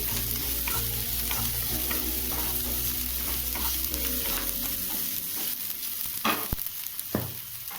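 Roughly chopped onions frying in a pan, a continuous close sizzle with steady stirring strokes and occasional utensil knocks, no voices.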